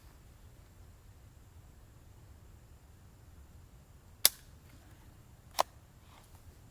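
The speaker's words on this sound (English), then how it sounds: "We're going to shoot this single shot just to take a look at the exit hole" A small-caliber .22 firearm: after quiet background hiss, two sharp, brief cracks ring out about a second apart, faint overall with no talking.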